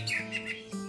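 A murai batu (white-rumped shama), a captive bird in moult from the Bahorok Nias line, gives a brief run of clear high chirps and whistled notes close by.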